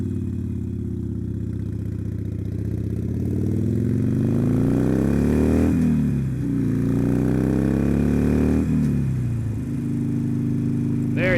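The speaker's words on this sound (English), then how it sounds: "You can hear the sound of those Vance and Hines sing, man. I love, love, love that exhaust." A motorcycle fitted with a Vance and Hines exhaust pulls away, its deep engine note climbing through two gear shifts, loud and close the whole way.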